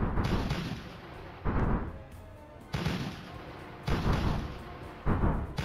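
Artillery fire in the strategy game Rusted Warfare, heavy booming blasts repeating about every second and a half, each with a rumbling decay, loud and without speech.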